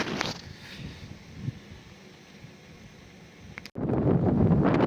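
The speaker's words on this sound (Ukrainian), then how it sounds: "Зараз вітер трохи стих" Steady wind roars and hisses across an open winter mountain ridge, with gusts rising and falling, then buffets the microphone loudly near the end.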